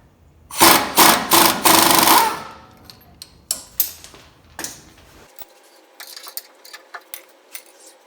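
A ratchet wrench spinning a 19 mm nut off a sway bar link on a Tacoma front suspension during a Bilstein 5100 shock install: a dense burst of rapid ratcheting clicks, then scattered sharp clicks and metallic taps, close and clear.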